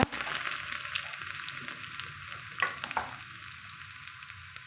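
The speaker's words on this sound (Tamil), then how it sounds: "இதில் நம்ம கடுகு போட்டுக்கலாங்க கடுகு போட்டு ஒரு வரமிளகா போட்டுக்கலாங்க சின்ன வெங்காயம் போட்டுக்கலாங்க" Mustard seeds, a dried red chilli and shallots sizzle in hot oil for a Karaikudi-style sambar, producing a continuous crackling fry with sharp pops and a couple of louder stirring bursts partway through.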